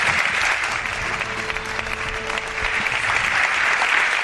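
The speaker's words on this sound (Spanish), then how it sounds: "Os pido un aplauso para él." Sustained, dense audience applause fills a small studio space called Espacio en Blanco in Zamora, steady and loud throughout with no talk over it.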